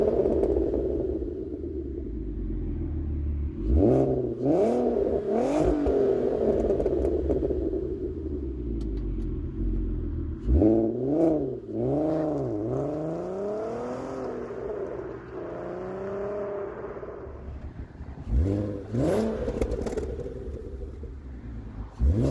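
A VW MK4 R32 fitted with a Milltek exhaust idles low, then is revved several times in sharp rising-and-falling bursts, recorded close up and outdoors with a quiet idle between the revs.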